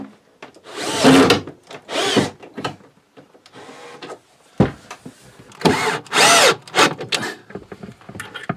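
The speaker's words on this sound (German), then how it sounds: "Jetzt kommt eigentlich das Schwierigste, nämlich das da drunter zu schrauben." A power drill drives screws underneath a tilting drawer in a home workshop, in several loud, close whirring bursts separated by short pauses and soft handling knocks.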